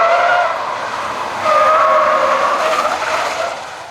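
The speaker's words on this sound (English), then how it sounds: "Big understeer onto the curb." Car tires squealing and skidding as a car understeers onto a roadside curb, one long tonal screech fading then returning louder, heard from a distance over steady traffic noise.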